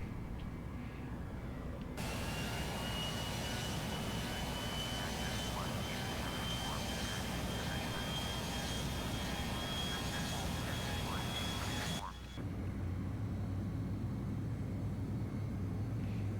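Simulated jet engines of a CRJ-900 regional airliner spooling up in a flight simulator, a loud steady roar with a rising whine that cuts off abruptly partway through, then a quieter rumble remains.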